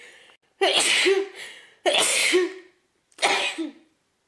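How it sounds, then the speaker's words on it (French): Three loud, close sneezes in a row, each a sharp burst with a short gap between them and no talking. "j'ai le nez qui chatouille, je vais éternuer"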